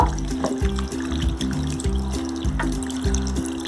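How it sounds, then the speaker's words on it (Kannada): Freshly made homemade paneer rinsed in water to wash out the vinegar: steady, close splashing and trickling water that runs continuously and fairly loud throughout, with no talking. "ಸ್ವಲ್ಪ ನೀರಲ್ಲಿ ಕ್ಲೀನಾಗಿ ಮಾಡ್ಕೊಳ್ಳೋಣ ನಾವು"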